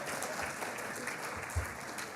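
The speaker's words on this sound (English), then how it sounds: "Let's have applause for that." Brief, steady applause from an audience at a university awards ceremony, a continuous mass of clapping with one low thump partway through.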